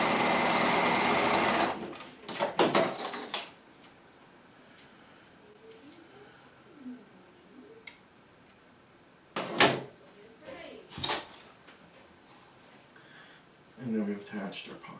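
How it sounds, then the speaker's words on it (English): A sewing machine stay stitches a half-inch line across the top of a set-in pocket at the waist, one steady burst up front followed by short, sporadic stitching bursts, close by and moderately loud. "we need to stay stitch the top of this pocket stay as well because it's part of the waist"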